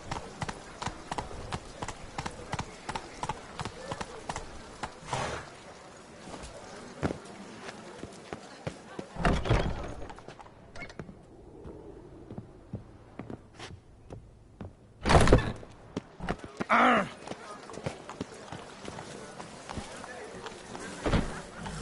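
Horse hooves clip-clop in a steady run through The Witcher 3, the rider's horse Roach moving along with thudding footfalls, punctuated by a few louder knocks and bursts, with game voices speaking over parts of it.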